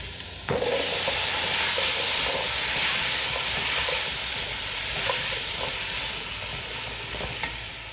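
Potatoes and carrots added to a simmering beef stew make a steady, close hiss and sizzle, with a few soft stirring knocks and scrapes scattered throughout.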